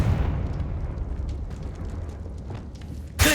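A Confringo fire spell blast in Hogwarts Legacy, heard as a rumbling low explosion wash with crackling bursts throughout, capped by a sharp loud impact at the very end.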